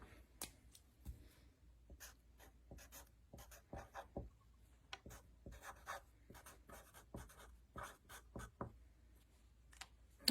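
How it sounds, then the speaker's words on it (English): Pen or marker scratching out a name on a small paper greenhouse craft, a quiet run of short, irregular strokes and taps close by with no talking. "Now we can start to color it and write our name on it."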